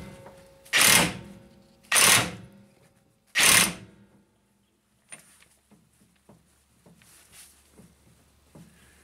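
An impact wrench fires three loud, short bursts a second or so apart while tightening a pinion nut on a Toyota Tacoma, followed by quiet clinks and light handling of tools.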